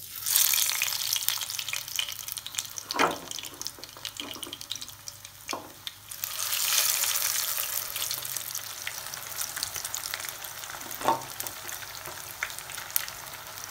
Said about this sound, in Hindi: ऑयल अच्छे से गर्म हो गया है। अब हम इसमें फ़िश की पीसेस डाल देंगे।